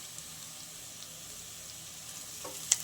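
Quiet, steady sizzling of onion with turmeric, garam masala and salt sautéing in a pan, with a faint stir and a brief clink near the end.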